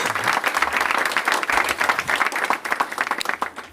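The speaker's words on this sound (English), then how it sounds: "Let's give her a round of applause for all she does." A school audience in New York City applauds the PA president, a dense burst of clapping from many hands close by, steady and then thinning slightly toward the end.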